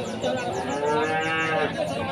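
White PO cattle mooing loudly and continuously, several overlapping low bellows at a busy livestock market with a constant background din.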